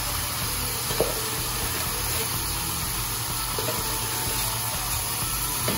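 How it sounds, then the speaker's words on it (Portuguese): Minced meat frying in a little olive oil for a bolognese sauce, giving a steady close sizzle with soft crackle throughout and a couple of faint utensil clicks. "vou começar a fritar a minha carninha aqui. Só tá num pouquinho de azeite que eu coloquei."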